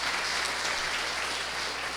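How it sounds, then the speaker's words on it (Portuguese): A church congregation gives warm applause during a live worship service, a continuous diffuse wash of many hands clapping at moderate loudness, heard alone without talk. "Celebra o Senhor com uma calorosa salva de palmas."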